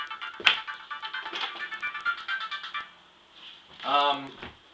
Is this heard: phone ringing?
yes